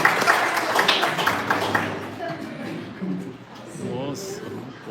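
Applause at an art exhibition greets two visual artists: a crowd claps briskly for about two seconds, then the clapping fades as voices take over and people start talking.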